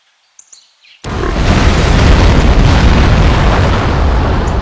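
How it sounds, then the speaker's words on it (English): An explosion in No One Lives Forever erupts suddenly after a few faint sounds, then becomes a loud, sustained roaring rumble that holds steady to the end. "there was an explosion of unknown origin in the town of Schilling"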